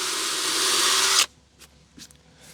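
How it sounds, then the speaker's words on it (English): A power drill fitted with a cobalt bit bores into hard deck board material, whining loudly and steadily up close before stopping abruptly, followed by a few faint knocks. "This material is kind of hard, and this bit should work well drilling all these holes."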